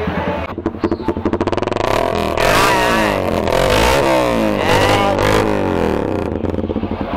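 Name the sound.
Suzuki GSX motorcycle engine revving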